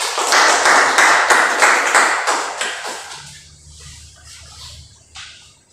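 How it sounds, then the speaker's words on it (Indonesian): Classroom applause for a student during a lesson on the Pythagorean theorem, a dense burst of hand claps for about three seconds that tapers off into scattered faint claps. "Aplaus dulu untuk teman kita ya."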